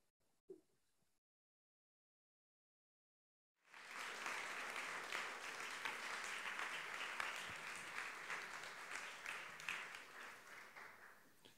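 Pre-recorded applause played in over a sound system, a dense, steady burst of clapping that starts abruptly after a brief silence and continues loudly for about eight seconds.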